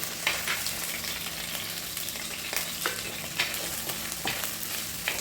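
Tomatoes, garlic and green chilies sauté in a pan with a steady sizzle, while a spoon scrapes and stirs in scattered clicks throughout. No one talks.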